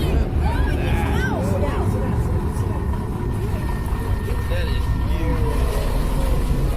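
A boat engine drones steadily on open water while a crocodile attacks, with shouting voices and animated talk layered over the continuous motor noise.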